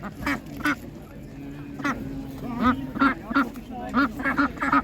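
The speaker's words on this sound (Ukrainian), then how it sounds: "Дуже гарна качка, ця м'ясна." Several meat ducks at a farmers' market quack repeatedly in close, overlapping bursts, loud and nearby, with no speech.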